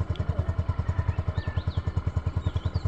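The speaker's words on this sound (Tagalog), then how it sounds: "Set up lang natin yung motor and then let's leave this place." A motorcycle idles on a cold mountain trail near a summit in La Trinidad, its engine thumping in a fast, steady rhythm at moderate distance, with faint chirps above it.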